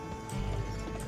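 Horse hooves clip-clop in the Western game GUN, a brief soft rhythmic patter of hoofbeats against steady background game ambience.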